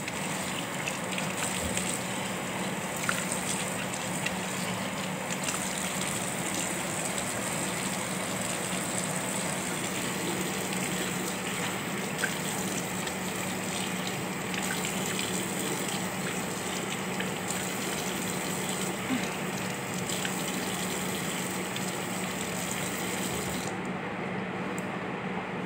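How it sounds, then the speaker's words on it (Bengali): Someone rinses their face under a running tap after using body cream, with a steady, fairly loud gush of water and splashing that continues throughout, with no talking. "আমি এই যে মুখটা ধুয়ে আপনাদেরকে দেখাই দিতেছি"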